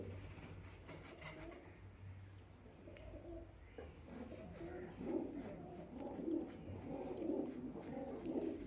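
Pigeons coo in low, soft, repeated murmurs, growing a little louder toward the end over a quiet background hum.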